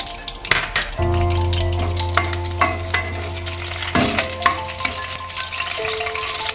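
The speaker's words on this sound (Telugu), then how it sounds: "ఆయిల్ ఇట్టెక్కాక కొద్దిగా కరివేపాకు వేసుకోవాలి" Curry leaves crackle and sizzle in hot oil in a pan for brinjal garlic fry, a loud close sputter with a low steady hum and a few clinks of a stirring utensil, no voices.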